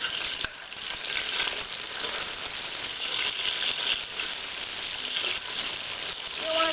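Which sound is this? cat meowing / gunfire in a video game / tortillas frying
tortillas frying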